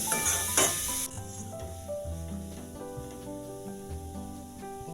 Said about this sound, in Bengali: দেখো গাজর কাজু কিশমিশ 2 মিনিট ভেজে নিয়েছি।